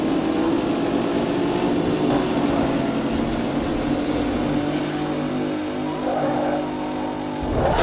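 Race car engine in the Need for Speed Most Wanted video game, a steady sustained drone with rising and falling revs throughout, with no talking.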